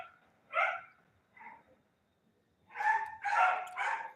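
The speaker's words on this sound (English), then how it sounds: "I can't be working with these dogs." Dogs bark indoors in short bursts, first a single yelp, then a second, then a quick loud cluster of barks after a pause, fairly close with no talking.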